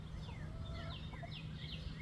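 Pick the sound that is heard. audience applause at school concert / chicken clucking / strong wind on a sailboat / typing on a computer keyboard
chicken clucking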